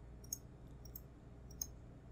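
A few crisp computer mouse clicks, faint and close, come in small irregular bursts against a quiet low background hum, with no talking.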